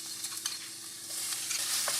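Garlic, ginger, green chilli and curry leaves frying and being stirred in a pan, a steady soft sizzle with a few clinks of stirring, fairly quiet and without talk.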